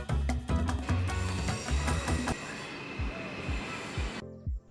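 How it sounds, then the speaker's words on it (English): Passenger train heading to Monterosso in the Cinque Terre, with loud rhythmic wheel clatter and squealing metal tones rolling past close by, fading into quieter rumble before cutting off near the end. "took the train to our last village"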